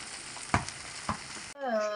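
Fish fries in hot ghee, sizzling steadily with a couple of sharp clicks from a utensil, then the hiss cuts off abruptly into a brief tonal sound.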